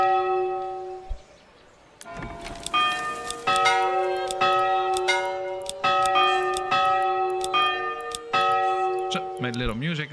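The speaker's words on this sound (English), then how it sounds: "Want to hear the new bells of the church." Church bells ringing in the Manor Lords video game, a series of loud, sustained tolling strikes with long ringing overtones that repeat steadily throughout, following a brief stretch of quieter tones at the start.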